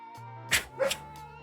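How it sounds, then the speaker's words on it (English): Dogs barking indoors or nearby, two short muffled barks in quick succession with a faint yip before and after, over a quiet background. "Dang dogs."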